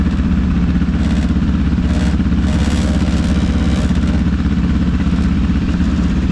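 A parked motorcycle that has not been started in a while runs unevenly, its engine idling with a steady, rough, lumpy chugging and clattering close by throughout, with no talking.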